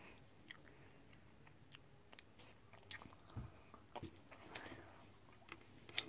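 Someone chewing a lemon slice taken from a drink, faint close wet squishing and soft crunching bites in an irregular rhythm, quiet and alone.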